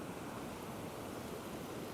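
Ocean waves surge against a coastline at sunset in a steady, broadband wash of surf, loud and continuous with no breaks and no voices.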